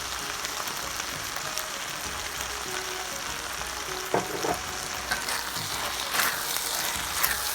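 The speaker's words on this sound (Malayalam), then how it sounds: "ഇതെല്ലാം നല്ലോണം ഒന്ന് മിക്സ് ചെയ്തതിന് ശേഷം നമുക്ക് ഫൈനൽ വെജിറ്റബിൾ, അതായത് ചോപ്പ് ചെയ്ത് വെച്ചിരിക്കുന്ന ക്യാബേജും കൂടെ ചേർത്ത് കൊടുക്കാം." Vegetables and chopped cabbage being stir-fried for Chinese fried rice make a dense, loud sizzle throughout, with occasional scraping and clatter from the spatula and no voices.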